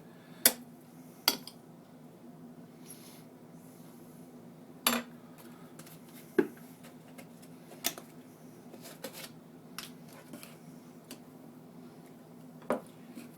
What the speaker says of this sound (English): I always use a fork because it seems to mix it up better than anything else